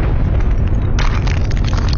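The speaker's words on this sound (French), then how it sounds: "la BT Gold Mine de Du Parquet a fermé à cause d'une explosion mal calculée" An explosion in an underground gold mine: a dense, loud, low rumbling roar that holds steady, gaining a harsher crackling, debris-like texture partway through, with no voices.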